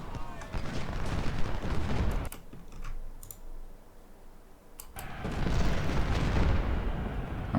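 Musket and artillery fire in the Ultimate General: Civil War video game, a dense crackle of rapid shots and booms that quiets midway with sharp clicks, then swells again.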